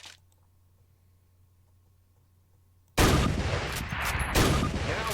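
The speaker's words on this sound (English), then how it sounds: "Turn to the left, move to the fence, and fire 2 rounds at your target." Springfield rifle fire in Call of Duty breaks a near-silent stretch with a sudden loud blast, followed by sustained, harsh gunfire noise that continues to the end.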